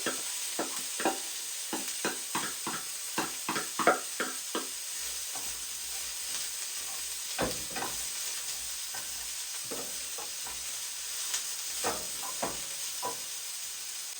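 Broccoli and garlic sauté in a pan with a steady, quiet sizzle, while a utensil stirs and taps in a string of short, crisp clicks and scrapes that come close together early and then thin out.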